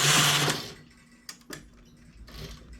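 A knitting machine carriage is pushed across to knit two rows of irregular stripes: a short loud mechanical whirring sweep, then a few sharp clicks and a faint rattle as the carriage settles.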